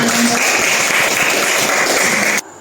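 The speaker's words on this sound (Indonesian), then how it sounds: "Kita berikan tepuk tangan dulu untuk" A classroom of students applauds together, a loud, even patter of many hands held for about two seconds before stopping abruptly.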